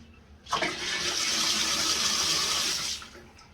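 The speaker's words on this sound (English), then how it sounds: "Okay, turn on the water, turn it off, no more dripping." Running water gushes from a repaired faucet, starting abruptly, flowing steadily and loudly up close for a few seconds, then cutting off.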